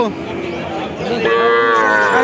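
A cow lets out a loud, drawn-out moo, close by, over a busy murmur of background noise at a cattle market.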